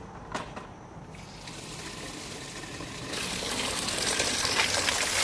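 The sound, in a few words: water poured into fermented kitchen waste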